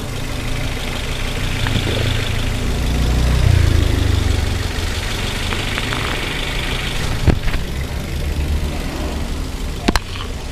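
A used car's engine idles steadily during a pre-purchase inspection, a constant low rumble with faint background voices and a couple of brief knocks near the end.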